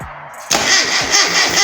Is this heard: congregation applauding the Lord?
no